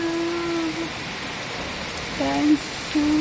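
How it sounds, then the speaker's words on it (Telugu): Steady hiss of rain falling, with a few brief tonal calls rising above it. "ఇంకా మంచి వర్షం వస్తుంది"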